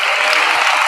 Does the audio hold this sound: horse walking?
no